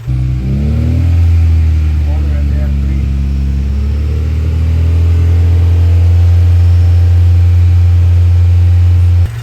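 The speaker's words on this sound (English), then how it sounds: "So I'm gonna have Joey keep revving it." A Honda Prelude engine revs loudly and steadily nearby during a radiator upgrade, pitch rising early then holding at a constant high idle with a strong low drone.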